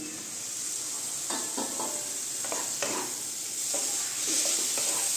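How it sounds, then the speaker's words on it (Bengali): Pre-fried cauliflower florets going into hot oil and spice masala for a Bengali cauliflower do pyaza, a constant hiss of sizzling with intermittent scrapes and clatters of stirring, close and fairly quiet. "এখন এটার মধ্যে দিয়ে দিচ্ছে আমি এই যে ভেজে রাখা ফুলকপিগুলো।"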